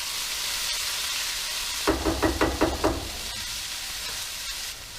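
Vegetables for fried rice sizzle steadily in a pan, broken midway by a quick run of about six scraping stirs of a spatula before the even hiss resumes; no talking.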